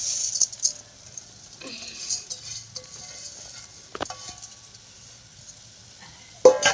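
A pot of liquid comes to a boil on a gas stove and is stirred, giving a steady soft bubbling hiss with light scraping, a brief clatter near the middle and a louder knock of a utensil at the end.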